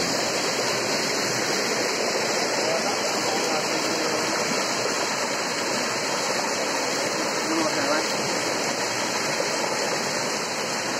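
River water rushes steadily, a dense broadband roar of flowing current that stays loud and constant throughout, with no clear voices breaking through.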